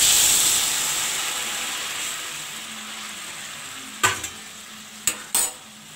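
Hot water poured into a pan of sautéed vegetables for a potato, soybean and pumpkin curry, starting as a loud steady hiss that fades, then a few sharp clatters near the end.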